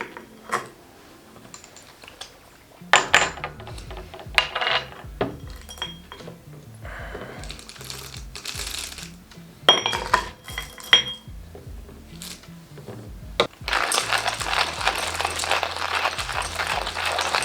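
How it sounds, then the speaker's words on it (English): Coffee beans crushed in a small grinder before a tasting of a custom home-roast blend, heard as bursts of clattering, clinking grinding that stop and start, ending in a sustained louder run of grinding with no talk. "we're gonna take a few beans and we're gonna grind"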